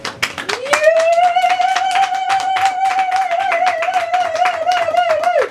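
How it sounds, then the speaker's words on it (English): Applause from guests at a civil wedding ceremony, brisk steady clapping from several people throughout, with a loud sustained whistle or high cry over the top. "Il faut applaudir."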